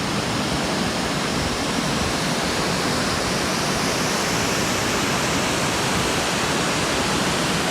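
A waterfall roars steadily and loudly at close range, its broad rushing wash of water unbroken from start to finish with no voices.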